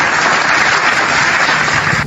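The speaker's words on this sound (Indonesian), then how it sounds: "Saya harus tepuk tangan dulu." Hand clapping heard as a dense, continuous patter, loud and close, with no talk over it.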